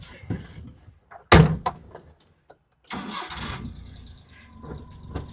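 A Maruti Omni van's engine cranks and catches with a loud burst, then runs and revs unevenly while the van pulls away, with a few door-like clunks and brief murmured talk nearby.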